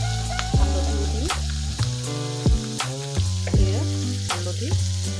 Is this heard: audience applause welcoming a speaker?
no